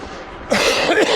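A single close, sharp cough bursts out about halfway through after quiet room noise, with a rough breathy tail, during an indoor bike trainer ride.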